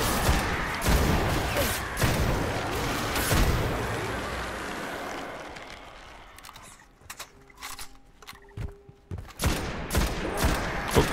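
Rapid gunfire in the video game Destiny, dense bursts of shots for the first half, then thinning into scattered single reports and clicks amid quieter game sounds.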